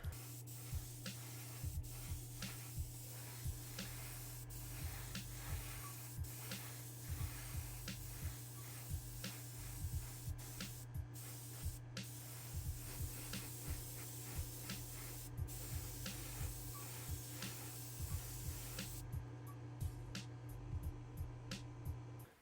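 A steady, soft hiss of an airbrush held wide open lays liquid chrome paint onto a Hot Wheels GTX diecast car, continuous and quiet from start to finish, with faint small clicks and handling noises.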